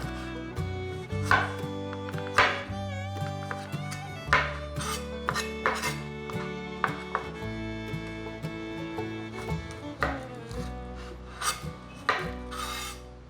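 A knife trims and scrapes a burdock root, giving short rasping cuts and scrapes at an irregular pace, close by and partly under steady background music.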